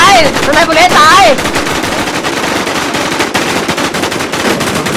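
Automatic gunfire from the survival shooter Infestation, set in the Rocky Ford map, rattles in dense rapid bursts throughout, loud and close, with a brief tonal game sound early on.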